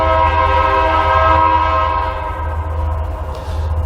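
A loud, sustained train horn blares continuously with rich harmonic tones over low rumbling, easing slightly in volume toward the end.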